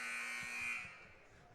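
The end-of-quarter buzzer sounds at a high school basketball game between Summersville and Fordland. It is a loud, steady electronic drone held for almost a second, then it cuts off and leaves faint arena murmur.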